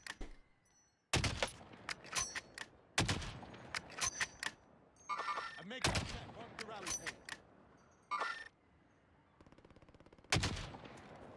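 HDR sniper rifle fire in Warzone comes as a series of sharp, loud shots spaced irregularly over several seconds, each with a short ringing tail and quieter game noise in between.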